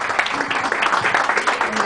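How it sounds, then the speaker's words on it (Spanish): An audience at an awards ceremony applauds steadily, with dense clapping throughout and a voice talking over it. "Un fuerte aplauso, por favor, que se escuche"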